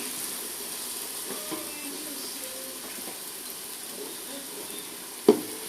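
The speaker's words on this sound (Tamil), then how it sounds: "அதனால் லைட்டாக லைட்டாக கிண்டி விட்டுறணும்" An egg fries in a pan for chicken noodles while being stirred lightly. A faint, steady sizzling hiss carries throughout, with a single sharp click near the end.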